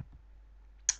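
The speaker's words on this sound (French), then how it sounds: "Vous m'entendez cliquer comme de la merde" A single sharp, close mouse click sounds during a Farming Simulator 2011 game, preceded by a faint low thump and quiet hum.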